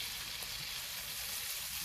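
Stuffing fries in a hot pan with a dense, steady sizzle, loud and close, unbroken for the whole moment with no talking.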